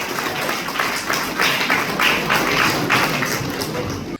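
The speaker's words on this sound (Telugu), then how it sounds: "మనందరం కూడా గట్టిగా చప్పట్లతో ఆయన అభినందించాలని చెప్పండి" An audience at a public gathering in Narasaraopet claps loudly and steadily for MLA Dr. Chadalavada Aravind Babu, a dense roll of applause lasting several seconds before cutting off abruptly.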